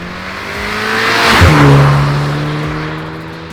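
A 2021 VW Golf 8 GTI fitted with an Eisenmann exhaust accelerates past, the raspy exhaust note swelling loud as it goes by and then fading away.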